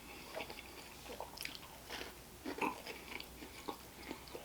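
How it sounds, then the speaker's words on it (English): Close, quiet chewing of a crunchy brownie studded with pecans during a mukbang, with irregular soft crunches and bites, no talking. "And I keep getting those crunchy bits of the pecans."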